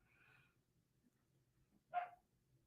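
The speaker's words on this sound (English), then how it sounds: "It sounds like a dog is stuck outside." A single dog barks once from outside, faint and distant, after a soft earlier whine, against a quiet background.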